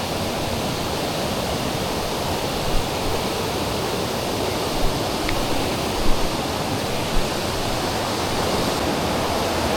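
Strong, murky river water rushes steadily past a forest campsite, a loud, continuous broadband roar that holds constant throughout, with a few faint knocks and splashes rising above it.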